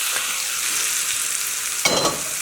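Hot cooking oil heated to about 180 degrees hisses and sizzles as it is poured into flour, a steady close crackling with a brief louder burst near the end and no talking.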